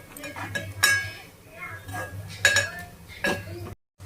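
A spoon stirs turmeric into chicken curry in a metal pot, giving several sharp clinks and scrapes against the rim and sides. A low steady hum runs underneath the whole time.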